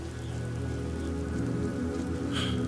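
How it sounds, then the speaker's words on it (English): Steady rain pours down in Skyrim, a constant close hiss of drops with a low droning hum beneath and a brief brighter splash near the end; no one speaks. "I need to get out of this God's forsaken rain."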